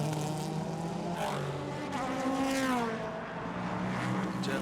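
IMSA P3 prototype race cars battling at Circuit Trois-Rivieres: several high-revving engines whine and shift pitch as the cars pass close by one after another, with loud overlapping engine notes throughout.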